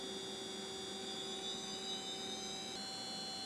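A high-speed seal face test rig spinning at around 7,000 RPM gives a steady whining drone with sustained high tonal whine lines over broadband noise, holding level before a slight step change near the end.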